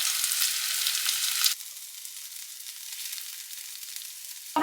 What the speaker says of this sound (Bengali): এবার গ্যাসের ফ্লেমটা বাড়িয়ে একটু ফ্রাই মতন